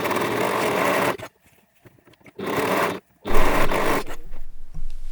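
A sewing machine stitches around a backpack pocket in three loud, steady bursts of rapid mechanical whirring, separated by short quiet pauses while the fabric is repositioned.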